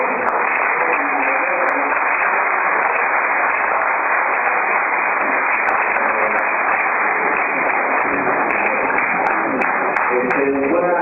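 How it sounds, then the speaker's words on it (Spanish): An audience applauds a speaker being introduced at a talk, with steady dense clapping that runs throughout and sounds bright and band-limited, as though heard through a narrow, radio-like channel. "Entonces, por favor, un aplauso para el maestro Pablo Campos."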